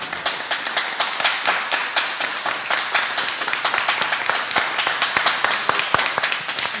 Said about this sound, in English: let's give an applause to all the book distributors